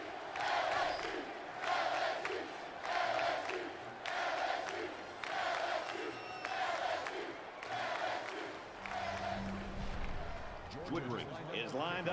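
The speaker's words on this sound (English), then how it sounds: "you can feel the thunder in the crowd as they await the start of this game" Stadium crowd at an LSU versus Georgia SEC Championship college football game roars and chants in steady rhythmic swells before kickoff, a loud, dense wall of voices filling the whole stretch.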